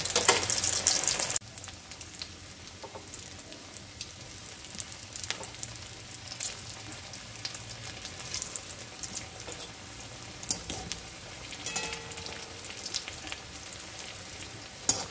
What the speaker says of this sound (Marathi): असे मी सगळे तळून घेणार आहे आता.